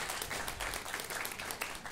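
Comedy club audience clapping in response to a stand-up comic's question, a short burst of brisk, dense applause from many hands in a room.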